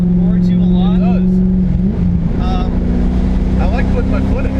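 A modified C4 Corvette fitted with an aftermarket exhaust package rumbles loudly and close by, its low engine tone rising and falling as it revs, while people talk over it.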